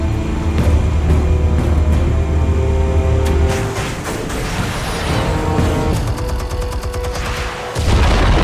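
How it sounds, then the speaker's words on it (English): Armed explosives go off in the Batman Telltale video game with a loud, sustained rumble of blasts and crackling debris, followed by rapid metallic rattling bursts and a heavy low thump near the end. "Explosives armed. Fire when ready."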